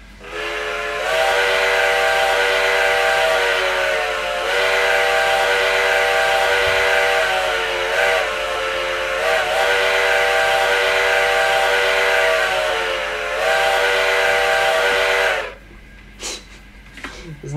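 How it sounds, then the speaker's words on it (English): A steam locomotive whistle in modded Minecraft sounds in long sustained blasts, loud and close, separated by short breaks over about fifteen seconds, then cuts off into brief clicks and quiet. "This whistle is so nice."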